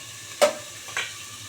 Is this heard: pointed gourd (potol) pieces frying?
yes